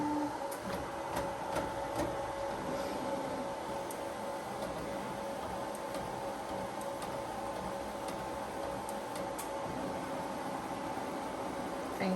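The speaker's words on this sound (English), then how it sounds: "And now I will run the nozzle check again." A Ricoh Ri1000 direct-to-garment printer runs a nozzle check, giving a steady mechanical whir with rapid, regular ticking and clicking that carries on evenly, close by, with no voices.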